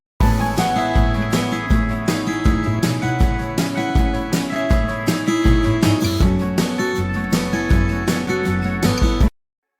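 A full music mix plays back loud for nearly ten seconds before any mid-side EQ is applied. Regular punchy low-end beats sit under a dense, sustained instrumental bed, and it cuts off abruptly at the end.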